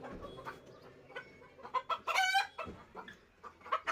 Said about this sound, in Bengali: এগুলো আমার পাকিস্তানি মুরগি, অনেকগুলো মোরগ আছে।